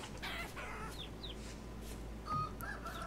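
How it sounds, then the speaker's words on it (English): Chickens in the video game Vintage Story, soft scattered clucks and a few short chirpy calls at moderate distance over a low steady hum, with no talk. "it still appears as though we have massive amounts of chickens"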